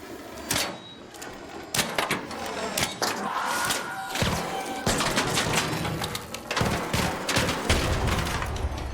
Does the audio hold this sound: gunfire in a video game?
yes